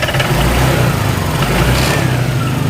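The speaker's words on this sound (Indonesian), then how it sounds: "Nah sekarang posisinya kan hidup, jadi kalau digas gini ya, maksudnya digasnya pakai tangan dulu aja" A motorcycle engine with a throttle body fault runs loud and close while its throttle is twisted by hand, rising into two heavy revs and then falling back slowly toward idle.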